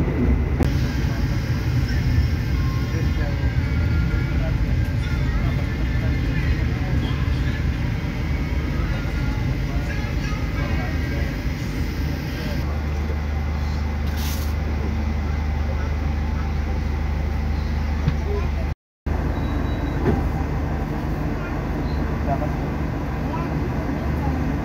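A KA Lodaya economy train heads toward Wates station, heard from inside the carriage as a continuous rumbling drone of wheels and motion with a brief cut near the end, while a person talks throughout.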